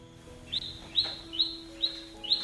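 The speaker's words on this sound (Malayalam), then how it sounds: "ആ ഡോറ് തുറന്ന അപ്പോൾ തുടങ്ങും കേട്ടോ കിളികൾ ഇങ്ങനെ കരയാൻ." Birds chirp just outside a kitchen door: five short, bright tweets at fairly regular intervals, close and clear over a low steady background, with no talking.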